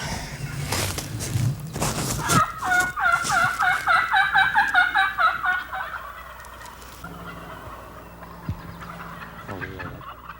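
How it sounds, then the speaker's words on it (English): A burst of rapid wild turkey gobbling rings out from across a field in spring, preceded and followed by faint rustling outdoors. "you can hear the gobblers. They're right across this field here"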